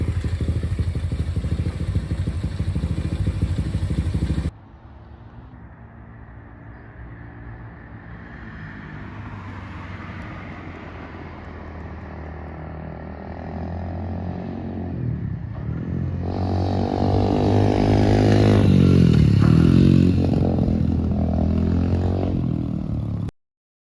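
An Orion 110 pit bike fitted with a spark arrestor idles as its engine warms up. The single-cylinder putter runs steadily and close, then rises with revving and rattly throttle blips toward the end, with no talk.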